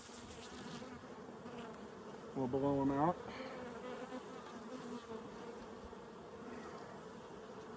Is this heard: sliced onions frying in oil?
no